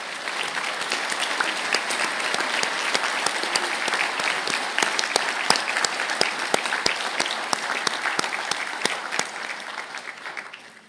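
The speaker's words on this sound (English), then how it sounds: "Please stand for a round of applause." A large audience at a university graduation conferring ceremony in Galway gives sustained, dense applause. The clapping is steady and loud for about ten seconds, then thins slightly near the end, with no speech over it.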